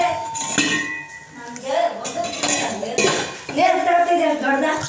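Steel vessels and dishes clink and clatter in a home kitchen in repeated bursts, close and fairly loud, while people talk over the handling.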